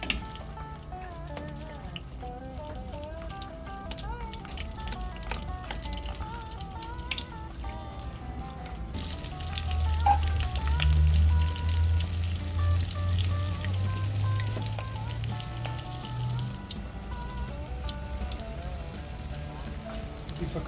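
Red chilies and onion fry in lard in a pan with a soft continuous sizzle and scattered pops. A voice talks over it, and a low rumble rises briefly midway.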